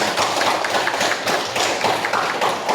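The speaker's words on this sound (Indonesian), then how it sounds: "Iya betul, tepuk tangan." Students in a classroom clapping their hands together as applause, a dense, steady, loud patter of many hands throughout, with no talking.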